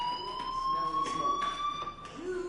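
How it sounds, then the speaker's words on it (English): A fire alarm rings in the video game Life is Strange as a steady, piercing electronic tone held throughout, with a constant level under muffled background activity and some overlapping talk. "Hey, do you hear that fire alarm?"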